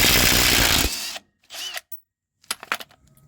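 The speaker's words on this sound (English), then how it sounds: "do yourself a favor and get a impact wrench" An impact wrench rattles loudly and steadily for about a second while removing U-bolts from the leaf spring of a Nissan D21 Hardbody pickup, followed by a few short metallic clinks and clanks.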